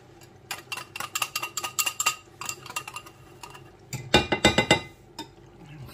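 A utensil stirs cornstarch into water in a bowl, giving a run of quick, close clinks against the side, then a brief louder burst of scraping and tapping near the end, with no talk.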